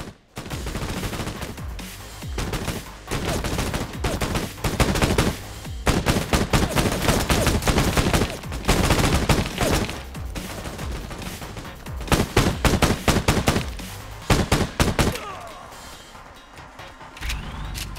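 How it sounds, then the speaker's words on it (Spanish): Loud, dense gunfire in rapid bursts and sustained volleys in the video game Code of War on Mac, nearly continuous with brief pauses, like an intense firefight. "Ah, acá están dando tiros ya."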